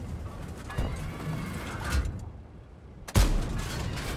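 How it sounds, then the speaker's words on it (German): Two loud, sharp tank cannon booms in World of Tanks (T77), one early and one stronger later, each with a short rumbling tail. "Ah, erster Schuss prallt wieder ab."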